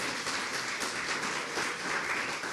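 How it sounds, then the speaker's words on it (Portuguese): A church congregation applauds during a sermon, giving a short burst of dense, steady clapping that sounds somewhat distant and fills the room. "Quem acredita, dá uma salva de palmas para Jesus."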